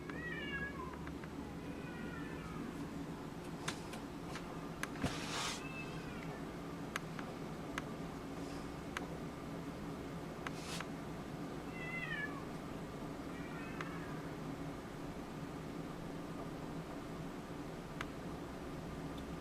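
Several cats meow back and forth in repeated short, faint calls, spread over a steady outdoor background with occasional ticks and rustles.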